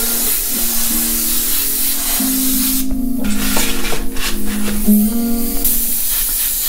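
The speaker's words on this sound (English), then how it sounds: "Just spraying paint at an angle off of this clothespin" Steady airbrush hiss of spray paint angled off a clothespin to splatter a graffiti-style hat, continuous and close, with a soft rubbing texture and faint tonal hum beneath; no voices.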